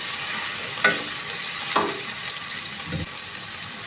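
Finely chopped tomatoes and salt fry in a pan for matar paneer bhurji, hissing in a continuous sizzle with a few sharp scraping stirs, close up and with no voices.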